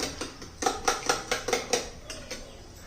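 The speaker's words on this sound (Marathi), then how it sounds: "आता एक पॅन आपण गरम करण्यासाठी ठेवूया." Metal pan set onto a stove to heat for an egg chilli fry, with a run of sharp, evenly spaced clanks and clatters of metal on metal, fairly close and loud, then fading out, no talking.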